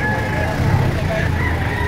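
A rooster crows at an outdoor fowl fair in Padre Garcia, its short call rising above a dense crowd murmur and nearby voices, with a vehicle humming faintly in the background.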